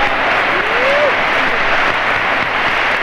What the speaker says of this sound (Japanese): 日本の各選手が選手控え席で拍手を送っています